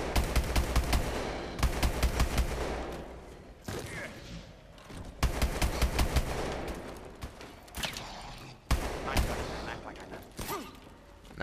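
Rapid automatic gunfire from shooting zombies in Call of Duty Exo Zombies, loud repeated bursts of shots with short pauses between them and a voice talking underneath.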